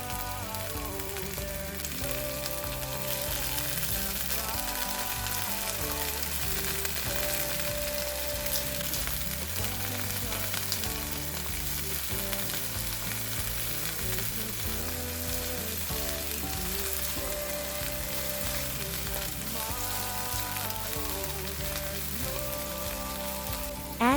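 Parsley and food frying in a pan with cooked rice about to go in, a steady broadband sizzle lasting throughout, with constant music playing over it.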